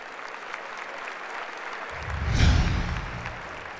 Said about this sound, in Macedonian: Да ги поздравиме со аплауз.